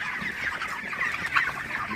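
Broiler chickens in a poultry shed cluck and chatter continuously, with a busy layered flock murmur close by and no voices.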